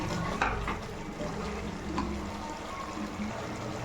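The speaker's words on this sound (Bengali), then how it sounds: "হাই ফ্লেমে রাখবো, রেখে এটাকে নাড়তে থাকবো" Chicken curry with onion being stirred in a pot over a high flame, a continuous low simmering bubble with scattered soft scraping and clinking of the spoon against the pot, no voices.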